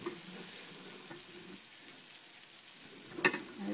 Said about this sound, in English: So let's cook this on the one side. You can hear it kind of sizzling,